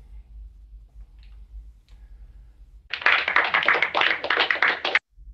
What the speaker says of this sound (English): I just thought he deserved a round of applause for completing this project